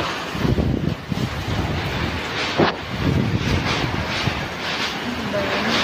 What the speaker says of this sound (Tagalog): Lord, patigilin niyo na po itong bagyo